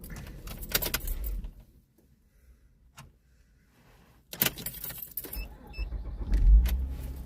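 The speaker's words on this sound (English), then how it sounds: "I need to turn off my truck and turn it back on real quick." Inside a truck, keys jangle near the ignition as the engine is shut off, followed by a quiet stretch, faint clicks and then a rumbling restart with some chimes. No voices are present.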